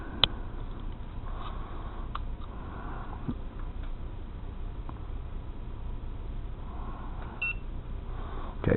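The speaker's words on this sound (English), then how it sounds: "you can hear when it binds, it beeps" A few short electronic beeps from an Estes Proto X toy quadcopter binding to its controller, sparse and faint against a steady hiss of background noise, with no talking.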